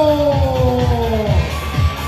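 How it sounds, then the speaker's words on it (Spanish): Lucha libre arena audience yelling and whooping, a loud dense crowd roar with a sustained tonal shout over rhythmic thumping, close and steady throughout. "Fuerte el aplauso"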